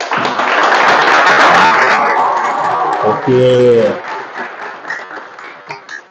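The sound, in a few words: audience applause at a lecture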